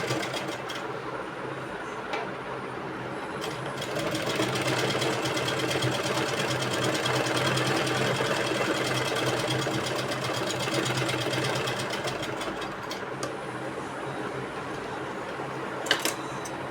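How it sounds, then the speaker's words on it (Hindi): A sewing machine runs continuously while stitching along the edge of a pant pocket, making a steady, fast mechanical whirring with close rattling. It swells louder in the middle, and a brief click comes near the end. "इसके ऊपर भी हमें बिल्कुल किनारे किनारे पे सिलाई लगानी है।"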